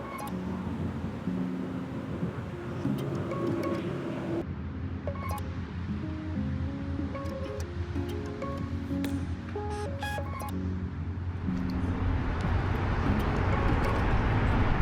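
A car cruising along a highway, a steady low road and engine rumble with wind noise that swells louder toward the end, no talk over it.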